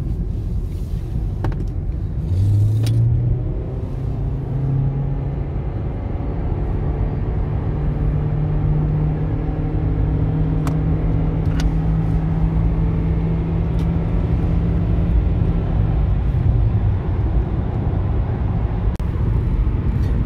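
A Lexus CT200h hybrid with automatic transmission revs hard at full throttle and rises smoothly in pitch without gear-shift breaks, loud and steady with road and wind roar underneath.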